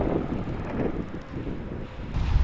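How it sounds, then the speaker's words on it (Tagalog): Strong wind buffets the microphone at a hillside campsite among pine trees at Kindao Farmville in Pangasinan, a steady low roar that swells and then gusts harder at the end. "ang lakas ng hangin dito."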